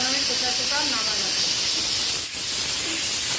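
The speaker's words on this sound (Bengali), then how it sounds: "এখন আমি প্রেসার কুকার নামাবো" A pressure cooker of dal vents steam in a loud, steady hiss close by, broad and continuous, with a faint voice in the background.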